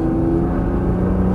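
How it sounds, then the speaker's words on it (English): A race car on a track, heard from inside another car as a loud steady engine drone with a held tonal whine, close and continuous throughout, no talking. "We're gonna let this car pass around behind us."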